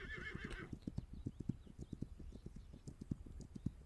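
Horse ridden in the game This Land is my Land, a brief whinny opening over a steady, close clip-clop of hooves that continues in an even rhythm.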